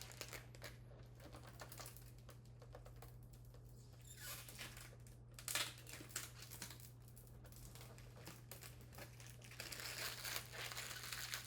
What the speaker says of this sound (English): sorry, it's a lot of crinkling